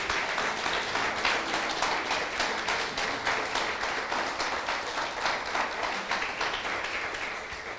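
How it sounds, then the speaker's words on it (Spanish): A church congregation applauds steadily, dense clapping from many hands filling the room, slowly tapering off toward the end. "Denle un aplauso al Rey."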